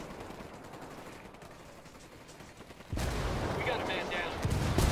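Mortar rounds hit during a firefight in Ghost Recon Wildlands, bringing a sudden jump to loud, dense blasts and gunfire over a constant battle roar. Someone speaks tensely beneath the noise.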